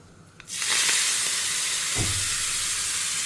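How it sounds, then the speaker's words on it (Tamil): Mustard seeds and urad dal hit hot oil, bursting into a loud continuous sizzle and hiss that rises suddenly and holds steady, with faint popping. "கடுகு பொரிய ஆரம்பிச்சுடுத்து"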